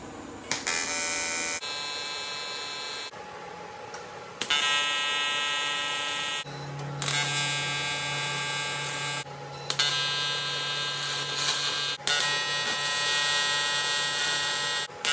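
Welding on a custom motorcycle seat and tail frame for a Kawasaki triple, heard as loud, harsh electric buzzing in repeated bursts of a few seconds each, separated by short pauses, with no talking.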